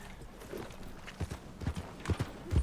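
Horse hooves clip-clopping on the ground in the video game Red Dead Redemption 2, a run of uneven near steps that grow heavier and louder toward the end over a soft ambient bed.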